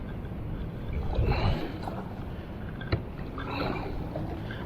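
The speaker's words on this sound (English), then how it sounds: "The wind really picked up a lot." Strong wind gusts across a lake buffet a kayak, giving a continuous broadband roar with a few faint knocks and water sounds and no speech.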